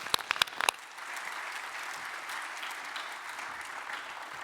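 An audience applauds at the official opening of a robotics conference, beginning with a few sharp, distinct claps that swell into a sustained wash of clapping from a large crowd.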